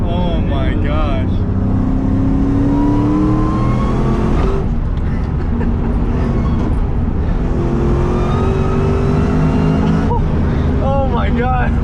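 A 700+ horsepower Terminator Cobra accelerates hard from inside the car, its engine roaring up through the gears with sweeping rising pitch and brief shift breaks, loud and continuous under an excited voice.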